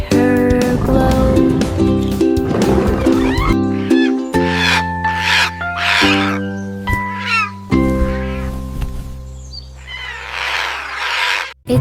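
A cat meows in a series of drawn-out, wavering cries over bright, loud children's song music, the calls spaced a second or so apart.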